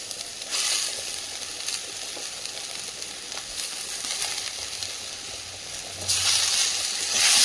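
Onions and washed araikeerai greens sauté in a pan with a steady, close hissing sizzle, swelling louder toward the end as the mixture is stirred.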